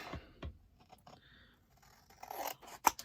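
Cutting off the bottom of a paper card: a few quiet crisp snips and scraping rustles, spaced irregularly and close up, with soft handling noises between them and no talking.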